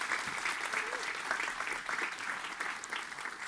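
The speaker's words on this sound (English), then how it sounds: "Can I just get another round of applause for our amazing panel," Steady applause from a careers fair audience, clapping for a panel, fills the room throughout, dense and even with no voices over it.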